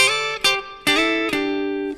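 Guitar plays a short soul-style phrase of double stops in fourths, four crisp plucks sliding between shapes, close and clear with no talking.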